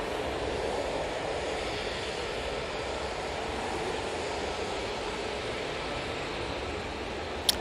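A TUI Boeing 737-800 jet departs Manchester Airport bound for Split, its engines a steady, broad roar held at an even level throughout, with a brief sharp click near the end.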